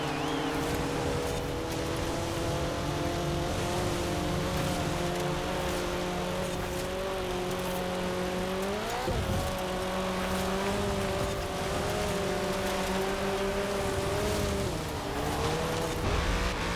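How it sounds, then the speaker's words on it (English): A Corvette race car roars through a racing video game, its steady engine drone holding throughout with a brief pitch dip around the middle as it shifts, loud and continuous with no talking. "Use the same Corvette I always use in this class, but Wolf's grip and skill won the race like always"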